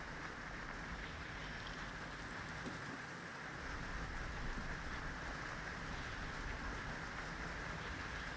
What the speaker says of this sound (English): The rain is just a pain in the backside.